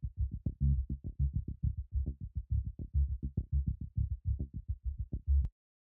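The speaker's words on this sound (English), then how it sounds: "the next instrument I added it's called a tight chord pattern" Tight chord pattern instrument in a modern dancehall beat made in Logic Pro: dull, low, thumping plucked chords in a quick steady rhythm, pulsing like a heartbeat, ending abruptly after about five seconds.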